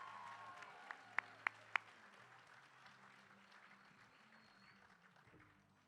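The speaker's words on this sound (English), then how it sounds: "How about a big round of applause?" Audience applause at an athletic awards banquet, a soft, distant patter of clapping in a large room, with a few sharp, louder claps early on and crowd murmur underneath as it fades.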